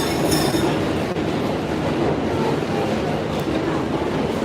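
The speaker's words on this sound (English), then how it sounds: "That's the sound of trains." Trains rumbling past in Midtown Manhattan, a steady, loud rolling roar with faint wheel squeal and rail clatter that fills the whole stretch, no voices on top.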